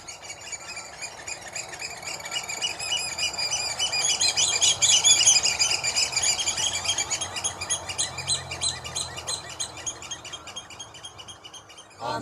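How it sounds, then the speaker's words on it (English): Oystercatchers pipe on a beach in a steady stream of shrill, repeated calls that swell in the middle, with several birds calling over each other and a soft low background rumble. "you can hear the 11 pipers piping, our tweet of the season, oyster catcher."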